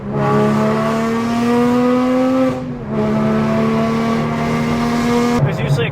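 A Mercedes G550 4x4 Squared engine droning steadily under driving, a loud sustained hum that dips briefly and swells again before a sudden change near the end, with talk faintly present inside the cabin.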